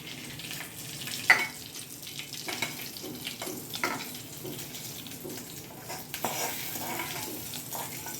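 A tempering of spices fried in hot oil for pumpkin raita, known as phodni, sizzles steadily with scraping stirs and a few sharper bursts, heard close up without any talking.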